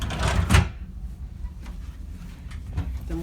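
A cabin drawer on the Carnival Vista cruise ship slides and thumps shut once, a short close knock followed by faint rustling and quiet handling noises in the room.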